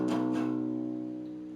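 Two quick strums on an electric guitar open a strumming pattern, then the low chord rings on and gradually fades, heard close with no talking.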